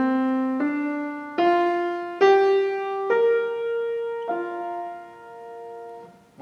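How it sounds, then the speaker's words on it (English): A five-note pentatonic scale, the major scale with its semitones removed, is played up note by note on a sustained, harmonically rich instrument, each tone struck cleanly and ringing close with no talking. "So when we take those semitones away from the major scale, we get this scale."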